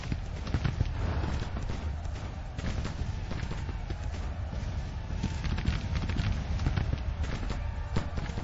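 Horse artillery moving on a Grand Tactician battlefield: a steady wash of hoof clip-clop and rumbling movement, continuous and moderately loud, with dense broadband noise and no clear talk.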